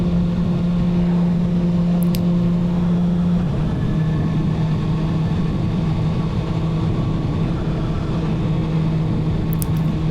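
Motorcycle cruising on an open road, a steady low engine drone with wind rush that holds a constant pitch, then drops slightly as the rider shifts, continuous and close throughout.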